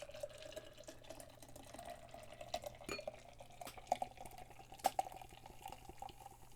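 Beer poured hard into a glass in a quiet room, giving a steady low gurgling fizz with small bubbly pops and a few sharper clinks, close and soft throughout.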